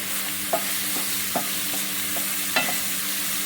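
Eggplant frying with egg in a pan is stirred, a few soft scrapes and taps standing out against a constant bright sizzle, close and moderately quiet, with no voices.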